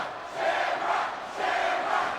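A wrestling arena crowd of about nineteen thousand at SummerSlam cheers for Ken Shamrock, a loud massed roar that swells in two surging waves.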